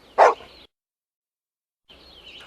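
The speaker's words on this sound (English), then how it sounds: "and a dog called Rusty." A farm dog gives a single short, sharp bark near the start, then quiet, with faint background sound returning at the end.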